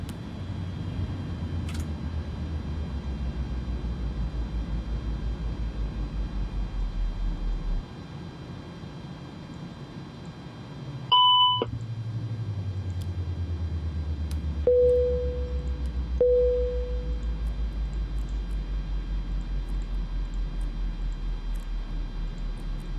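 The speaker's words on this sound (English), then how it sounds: "we will now power down the aircraft." An Airbus A310 powering down in Microsoft Flight Simulator 2020: a steady engine and cabin drone winds down, an abrupt drop, then a few electronic chimes and clicks as the low rumble fades further, with no voices.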